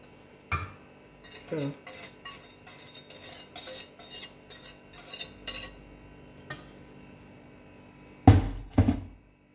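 A spoon clinks and scrapes against a metal pot of cocoa milk in a run of light taps, with a couple of louder knocks near the end.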